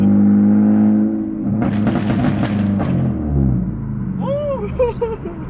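Loud Lexus IS250 fitted with an HKS Hi Power exhaust, revving hard in a deep burst with sharp popping crackles, then settling as a person talks over it near the end.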